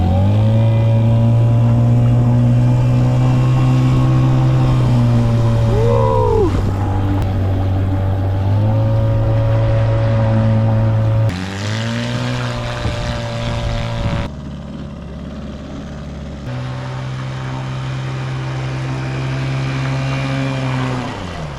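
The small outboard engine of a motorized Tuggy sandbox boat revs on a lake, a loud, close, steady drone whose pitch rises and falls with throttle changes and dips once partway through.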